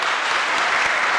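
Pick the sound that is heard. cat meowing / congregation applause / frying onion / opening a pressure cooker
congregation applause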